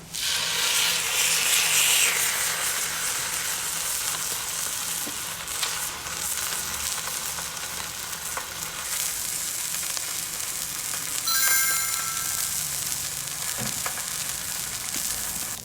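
A wagyu sirloin steak sizzles on a thin iron griddle, giving a steady, close, moderately loud frying hiss that holds for the whole stretch with no talk.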